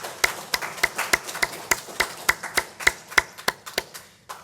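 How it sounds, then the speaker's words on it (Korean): Church congregation clapping during a Sunday service, a steady rhythm of sharp, fairly close claps at roughly four per second, each one distinct, with no voices over them. "하나님께 영광의 박수를"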